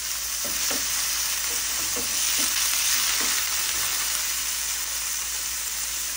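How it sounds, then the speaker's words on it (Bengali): Peas stirred into semolina with ginger in a hot pan, a continuous sizzle with soft scraping strokes of the spoon repeating through the first half, close and steady without talk. "তো হালকাভাবে আমি একটু নেড়ে চেড়ে মটরশুঁটি দিয়ে দিলাম"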